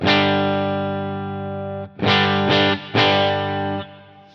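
Clean electric guitar through an HX Stomp with reverb: one long sustained chord, then three shorter struck chords in a loose rhythm, each ringing out with a reverb tail, close and loud with no voices.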